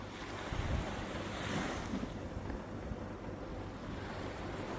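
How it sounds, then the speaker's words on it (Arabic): Gentle sea waves wash onto the soft sandy beach at Marsa Matrouh on a calm day, a soft steady surf hiss with light wind, fairly faint and continuous with no talk. "نرجع لشكل البحر تاني. بحر رايق وجميل جدا"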